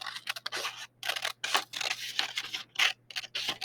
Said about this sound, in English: a really good trick here is I stop instead of trying to bring my scissors around there